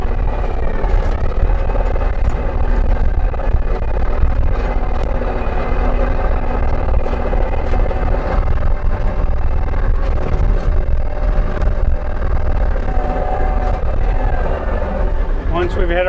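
A tractor with a post pounder attached drives along with a constant loud, droning engine rumble and rattling machinery, and someone talks over it throughout.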